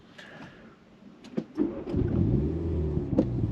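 A Mini John Cooper Works engine catches with a short burst, then settles into a deep, throbbing idle that stays close and fairly loud, preceded by a few faint clicks.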